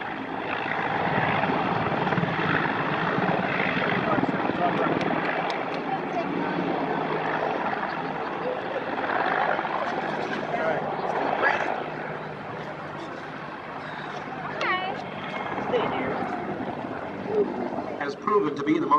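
A military helicopter lifting off, a steady, loud rotor and engine roar that holds throughout with little change in level, while a narrator speaks over it.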